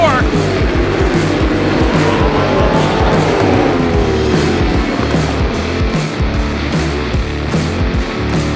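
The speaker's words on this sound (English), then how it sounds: "Hono's Superbike underway, clutches are out" Superbike engines at a race start at Barber Motorsports Park, a pack of bikes revving hard and pulling away together, a loud layered roar of rising engine notes with a commentator talking over it.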